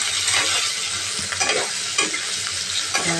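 Onions fried until reddish with chopped tomato just added, for a potato and egg curry: steady close sizzle with the scrape of stirring throughout, no voices.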